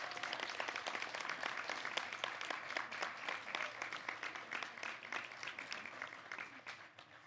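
Sustained applause from a crowd at a university senior celebration, many hands clapping densely at a moderate distance, slowly thinning and fading toward the end.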